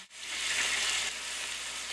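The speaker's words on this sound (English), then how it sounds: "Alright, so now it's started to sizzle, so it's ready for us to add our chicken." A pan on medium-high heat begins to sizzle, oil crackling in a steady hiss before chicken is added for lemon garlic chicken zoodles, close and fairly quiet with no talking.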